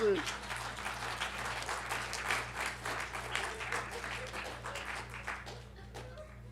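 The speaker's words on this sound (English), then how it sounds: "Round of applause." Applause from an audience at a poetry reading, a dense, even patter of many hands clapping at moderate volume, fading slightly toward the end, with a voice briefly heard at the start.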